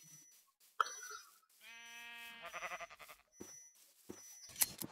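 Sheep in the video game Minecraft bleating, a couple of short synthetic bleats among quiet movement and game noises, close and clear.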